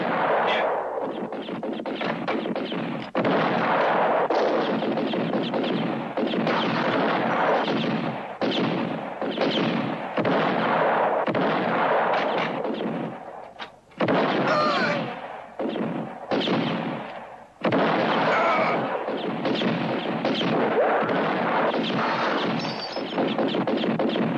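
Rifle gunfire rattles through a western film scene as dense, rapid shots and booming reports, loud and nearly continuous with a couple of brief lulls.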